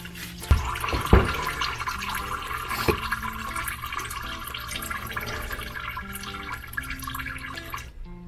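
Dirty oil and flush gunk draining out of the oil pan of a 2011 Chevy Aveo5, a steady liquid pour with a few sharp knocks near the start.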